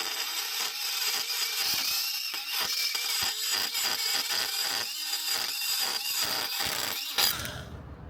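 A right-angle die grinder whines continuously against metal, its pitch wavering under load with steady gritty abrasion, close and loud throughout.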